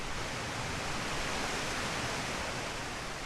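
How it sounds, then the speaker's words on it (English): Bonanza Falls, a broad cascading waterfall over tilted bedrock ledges on the Big Iron River in Michigan's Upper Peninsula, gives a steady, loud, unbroken rushing roar with no voices. "Bonanza Falls, or Greenwood Falls, as it is also called, is a broad, cascading waterfall spread across tilted bedrock"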